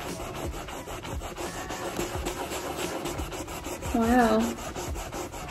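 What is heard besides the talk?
scrubbing painted faux marble countertop with cleaner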